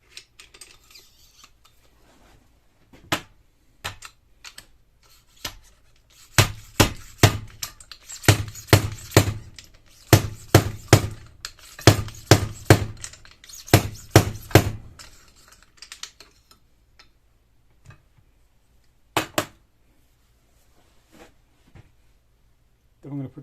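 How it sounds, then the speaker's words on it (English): Bursts of sharp metallic taps and clanks from a 43mm seal driver seating a fork seal on a Suzuki DR650, in a dense cluster of rapid strikes midway, with scattered single knocks before and after. "Then I'm going to use the seal driver. It's a 43mm seal driver."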